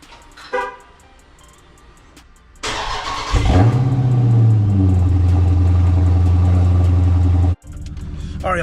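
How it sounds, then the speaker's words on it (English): A 2023 Dodge Charger Scat Pack Widebody Last Call's engine cold-starts, cranking and firing up after sitting five days, then settles into a loud steady idle with a deep rumble; a brief horn toot sounds earlier. "first I'm gonna give y'all that cold start"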